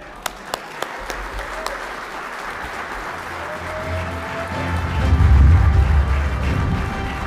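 A few scattered claps open, then applause builds into a louder, fuller ovation from the audience at a lacrosse Hall of Fame induction ceremony, with a faint voice over the start.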